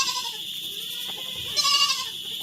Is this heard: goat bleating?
yes